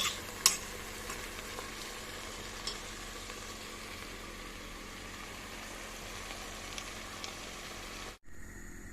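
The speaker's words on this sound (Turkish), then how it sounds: "Arkadaşlar patlıcan kızartırken bol yağda kızartalım." Eggplant frying in plenty of hot oil for Turkish karnıyarık, giving a steady, dense sizzle with faint crackles that runs evenly before cutting off abruptly near the end.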